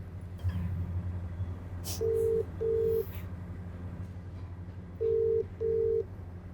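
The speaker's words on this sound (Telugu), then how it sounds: "అమ్మయ్య రింగ్ అయింది." A phone call rings out in two pairs of short beeping ring tones over a faint hum, heard close and fairly quiet, with a brief murmur of voices early on.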